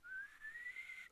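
A faint, thin whistle, probably a person imitating a kettle on the boil, rises steadily in pitch over about a second, alone and without speech.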